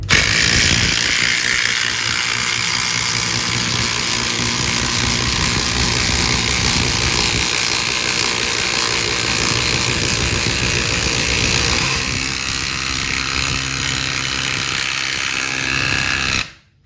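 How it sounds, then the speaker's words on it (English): Metabo HPT and Makita cordless impact drivers backing out bolts, a loud sustained mechanical rattling hammer with a whining motor, running steadily for a long stretch before cutting off sharply. "let's take these bolts out and try it one more time with the Metabo versus the Makita"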